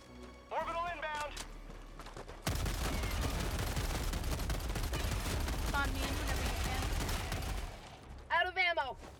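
Sustained rapid gunfire in the Helldivers video game, a dense loud burst of shots running for several seconds, with voices talking before and after the firing.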